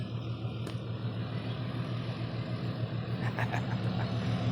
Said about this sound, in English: I hear a diesel.